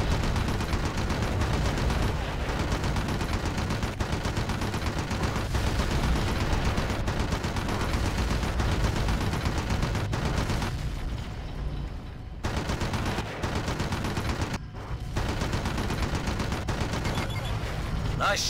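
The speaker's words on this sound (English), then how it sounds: "Nice shooting, partner." Dense, continuous gunfire from the video game Red Faction 2, rapid automatic bursts mixed with heavier booms, loud and nearly unbroken with only brief lulls, and a voice talking faintly beneath it at times.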